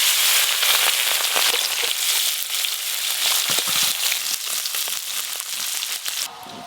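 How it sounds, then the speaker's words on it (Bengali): Raw hilsa fish frying in well-heated oil, a steady close broadband sizzle with scattered crackles and pops throughout, no talking. "এবার মাছগুলো ভেজে নেব।"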